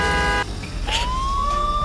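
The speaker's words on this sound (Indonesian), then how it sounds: "ada sirine ambulannya guys." In Euro Truck Simulator 2, an ambulance siren sounds from a Daihatsu Luxio: a loud electronic wail with a steady tone that breaks off, then sweeps back up and holds a rising pitch, with no talk over it.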